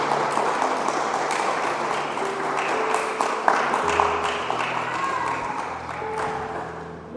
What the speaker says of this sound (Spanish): Denle una ofrenda de aplausos a nuestro Dios.